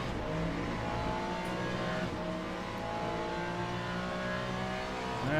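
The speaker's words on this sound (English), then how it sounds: "there's a whole group of hypercars coming to move us aside" Hypercars in the racing game Le Mans Ultimate drone around the player, several engines layered and rising as they close in, with a faint tire squeal and no talk.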